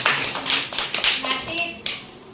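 A class of schoolchildren clapping during a school visit lesson, a short burst of brisk claps up close, with a teacher's voice and the children's voices mixed in.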